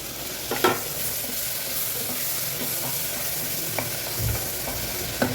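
Onion and tomatoes sautéing in a pan with a constant soft sizzle, punctuated by a few spatula stirs and scrapes, no talking.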